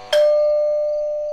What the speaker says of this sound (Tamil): என்னடா காலிங் பெல் அடிக்குது?